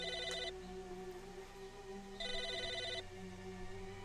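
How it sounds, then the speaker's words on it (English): Two bursts of an electronic telephone ring in the video game Psychonauts, each a warbling bell tone about half a second to a second long, separated by a pause and sounding over a steady low game background. "Phone call."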